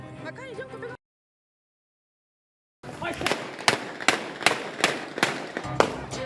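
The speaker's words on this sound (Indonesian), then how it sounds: "Diselingi suara tembakan" Police fire gunshots during a raid on cockfighting gamblers, a rapid string of sharp, loud cracks coming several to the second after a stretch of silence, with talk heard at the start.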